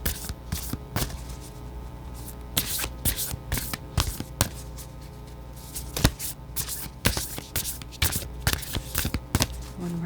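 Tarot cards are shuffled and drawn in a steady run of riffling, slapping card sounds close up, with sharper snaps scattered throughout and no talking.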